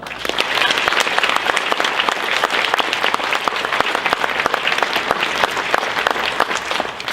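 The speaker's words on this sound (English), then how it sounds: "Give them a big hand of applause." A banquet crowd at a wrestling hall of fame honors dinner gives a loud, sustained round of applause, many hands clapping densely and evenly throughout, close and with no speech over it.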